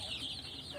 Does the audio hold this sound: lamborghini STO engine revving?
no